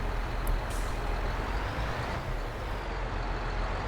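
A truck maneuvering a trailer into a parking spot in Farming Simulator, a steady low engine rumble with a brief hiss like an air brake near the start, continuous and fairly close.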